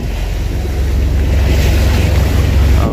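Choppy sea waves washing and splashing around a tour boat off El Nido, Palawan, a loud continuous rush mixed with wind buffeting the microphone.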